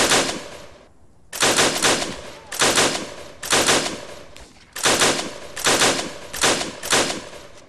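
Sustained bursts of enemy automatic gunfire in Arma 3 come in about seven loud, rhythmic volleys after a brief lull, each burst dense and rattling, with no voices over them.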